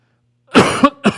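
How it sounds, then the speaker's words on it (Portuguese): A person coughs in a short burst, a harsh close cough followed by a second brief cough, loud and alone with no talk over it. "Esses dias eu tenho tido uma tosse grande."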